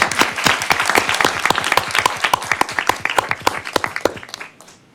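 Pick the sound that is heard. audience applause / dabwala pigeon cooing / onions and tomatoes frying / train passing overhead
audience applause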